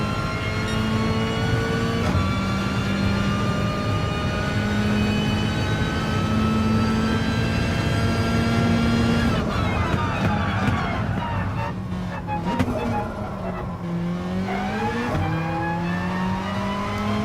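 Race car engine in the Gran Turismo Sport racing game, a steady high-pitched drone holding at speed, then dropping and rising again through gear shifts, loud and continuous with a second car faintly nearby.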